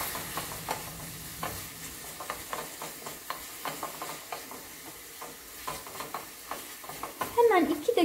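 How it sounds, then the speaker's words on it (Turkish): A molasses cough remedy bubbles faintly in a pan, with soft sizzling and a series of light scraping stir strokes, ending in a brief louder clatter. "Hemen 2 dakikada bu şekilde kaynasın."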